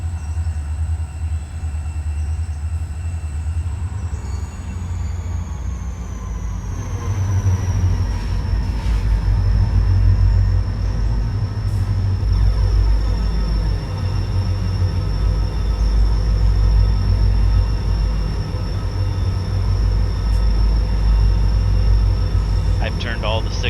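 Diesel locomotive engines with turbochargers running in the railroad game Railroader, a steady loud low rumble with a high turbo whine that rises after a few seconds and holds.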